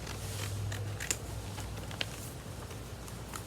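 Scissors snipping paper for a paper bag puppet craft, a few short crisp cuts close up against a steady room hiss, with no talking.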